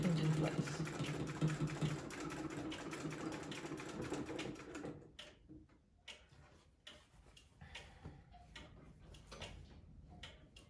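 A sewing machine stitches a pillowcase into a tote bag, running in a steady rapid burst of needle chatter, then stopping and giving way to scattered clicks and fabric handling.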